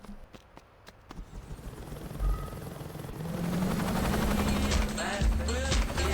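Helicopter in Saints Row 2, a rotor drone building from faint to loud and sustained in the second half, with sharp gunfire-like cracks and clatter early on.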